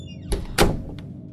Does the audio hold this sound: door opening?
yes